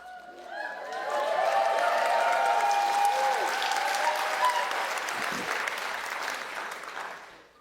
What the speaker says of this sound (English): You are clapping as if you could reach up and touch us.